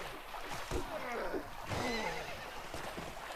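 Horse whinnying in the Mount & Blade medieval combat game, with a wavering neigh heard twice over splashing water and battle noise during a fight in a lake, with a voice talking too.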